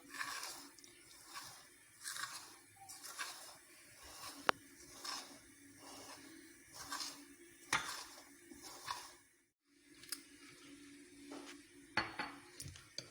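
Red velvet cake batter being mixed in a bowl after salt is added: steady, rhythmic scraping and clinking strokes of a utensil against the bowl, close and moderately loud, with a brief pause midway and no talking.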